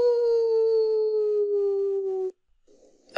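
A single long animal howl, dog- or wolf-like, sustains for about two seconds in a haunted-house setting, loud and close, then cuts off abruptly, followed by a brief soft rustle and a sharp noise at the very end.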